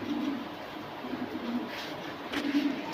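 Top-class Bombay pigeons coo in low, soft rolling calls, a few short bursts spread across a faint, steady background.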